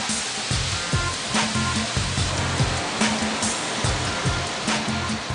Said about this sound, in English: Next, this huge drum spins the material with water to sieve out any remaining pieces of stone.